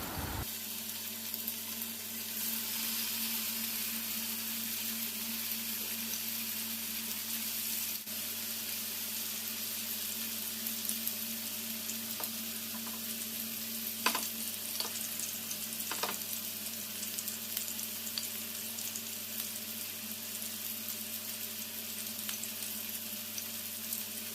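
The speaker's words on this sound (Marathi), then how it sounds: "सुरमईला ब्राऊन कलर येईपर्यंत फ्राय करायचे" Pieces of surmai fish fry in a little oil in a pan, a steady, even sizzle with faint crackles that continues throughout, punctuated by an occasional soft knock of a utensil, and no talking.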